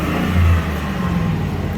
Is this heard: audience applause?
no